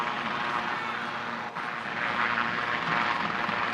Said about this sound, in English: No Omar in the midst of the helicopters overhead.